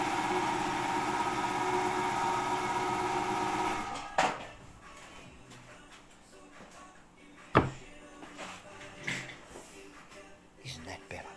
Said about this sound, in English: that is my compressor, which will shut off in a moment, hopefully, or I'll pull the plug on the bottom